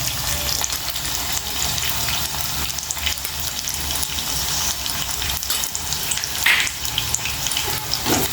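Fenugreek leaves fry in a pan with a pinch of turmeric for a moong dal stir-fry, producing a loud, continuous wet sizzle that rises and falls with stirring, plus a brief sharper hiss near the end.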